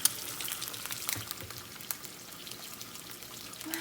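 Eggs fry in a pan with a steady, fairly quiet sizzle and small crackles for a few seconds, with no talking.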